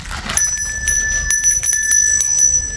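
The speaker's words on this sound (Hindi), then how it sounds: "और एक चीज़ मैंने मंगाया मंदिर के लिए, वो है ये मंदिर की घंटी।" A small temple bell for a home shrine rings with bright, sustained metallic tones, struck several times in quick succession and left ringing close to the microphone, with no voices.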